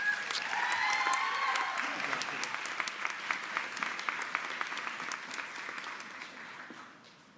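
A convocation audience gives a round of applause, starting as a full crowd clapping and thinning into scattered individual claps that fade away toward the end.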